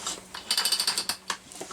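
A chainsaw with its spark plug removed is turned over by its pull starter, giving a quick run of about eight rhythmic ratcheting compression strokes, close and clear, with a few scattered mechanical clicks after.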